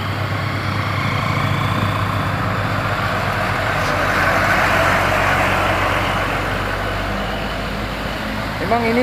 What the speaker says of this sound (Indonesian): ini truk-truk yang menanjak ataupun yang sudah menurun dari Bukit Kodok bosku. Ini truk-truk yang bermuatan berat ya.